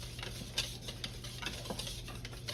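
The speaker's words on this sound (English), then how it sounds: "we're gonna mix the baking soda, baking powder, and cinnamon" Baking soda, baking powder and cinnamon stirred together in a bowl for zucchini bread, a steady dry scraping and swishing with a few sharper clinks of the utensil against the bowl, close and continuous, with no talking.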